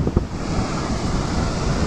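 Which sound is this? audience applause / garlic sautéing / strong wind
strong wind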